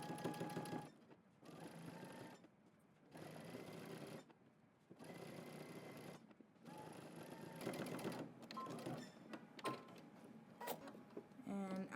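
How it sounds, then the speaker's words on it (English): A sewing machine edge stitching around a jacket made from a Simplicity pattern, running in several steady whirring bursts separated by short pauses, close and fairly quiet, with a faint voice near the end. "We're going to edge stitch all the way around."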